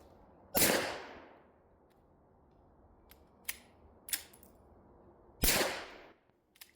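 Suppressed pistol shots from an Archon Type B firing subsonic ammunition crack out as sharp, close pops, two louder ones several seconds apart with fainter clicks and metallic ticks between them in an otherwise quiet outdoor setting.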